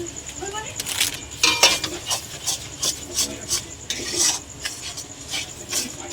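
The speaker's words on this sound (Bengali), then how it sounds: "এটা তালটা নেড়ে নেড়ে একদম আমরা শুকনো করে নেব" Palm fruit pulp is stirred in a pan until dry, giving repeated scraping and rasping strokes of a utensil against the pan with occasional light clinks. The strokes are close and fairly steady, and a voice speaks over them.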